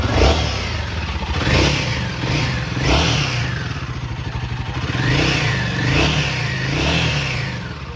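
A Royal Enfield Himalayan 450 parked at a service centre, in for a warranty claim, revs its engine up and down in several rising and falling swells, loud and close with mechanical clatter and no talking.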